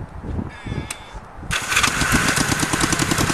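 A go-kart engine cranks over at about 1.5 s after a key is turned, then catches and runs with a loud, steady, busy roar to the end of the clip, with quiet background noise before it.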